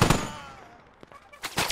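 A few sharp gunshots in a multiplayer shooter game crack at the start and again near the end, with a quieter decaying stretch between them.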